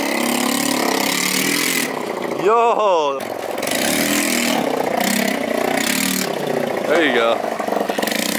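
A loud moped engine idles roughly and revs in short bursts nearby, among free scooters being picked up, while people talk over it.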